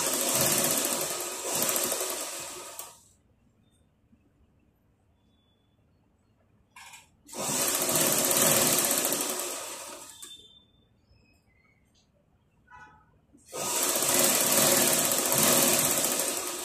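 A sewing machine stitching a folded blouse sleeve runs in three steady bursts of a few seconds each, close and fairly loud, separated by near silence with faint handling noises.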